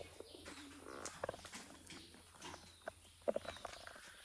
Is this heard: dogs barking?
no